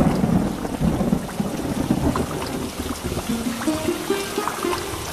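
Steady rain with rumbling thunder in an animated fairy-tale storm, where a man fishes in the downpour; a dense wash of rain is broken by low rolls of thunder throughout, with no voices.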